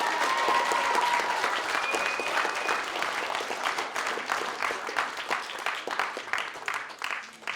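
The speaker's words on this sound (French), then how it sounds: "je voudrais que vous les applaudissez très, très fort, nos 3 candidats" A large audience applauds steadily and loudly for three contestants at a public speaking competition, the clapping holding strong throughout before thinning slightly toward the end.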